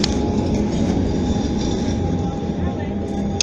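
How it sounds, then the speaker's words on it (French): A tram in Amsterdam passes with a steady, loud rumble of wheels on rails, a continuous drone lasting the whole moment, with people talking nearby. "Non, tramway."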